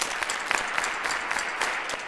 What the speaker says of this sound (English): you're going to clap 1, 2, 3, and 4